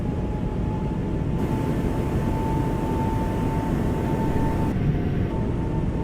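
Airbus A220 jet engines roaring steadily during a takeoff roll in a flight simulator game, a loud continuous broadband rumble with a faint whine, alone without talk.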